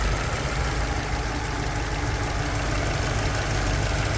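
Engine of a 2020 Kia Sportage S FWD running under the open bonnet, a steady close idle hum with no talk.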